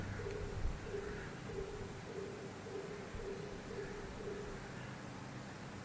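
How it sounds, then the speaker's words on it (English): A brown crow hooting outdoors: a faint, evenly spaced series of about eight soft, low hoots over steady ambient noise. "That hooting of that brown crow"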